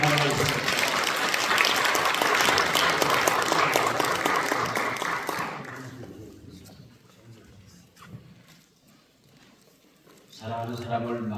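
A hall audience claps loudly and continuously to welcome a new board chairman at a Korean Christian education association gathering. The applause fades after about six seconds to a quiet room before louder sound returns at the end.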